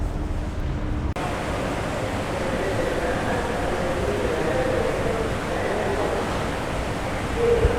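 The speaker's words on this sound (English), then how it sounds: "I'm in the subway in Barcelona, the Barcelona Metro." A steady, loud rumble fills a Barcelona Metro subway station as a train runs through, with continuous broadband noise from the rails and platform.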